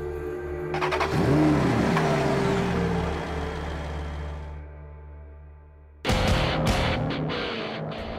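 Maserati GranTurismo Sport coupe engine revving loudly up close, a rising and falling rev in the first seconds, then a steady drone that fades before a sharp, loud return near the end.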